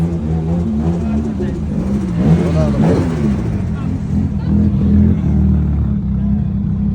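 Traffic on a Tokyo street rolls past in a continuous low rumble, with one car accelerating by midway, while people talk over the noise throughout.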